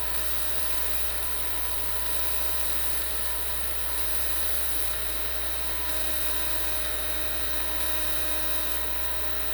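A 20W fiber laser engraves with a steady, high-pitched electronic whine and constant hum, unchanging and fairly quiet throughout with no talking.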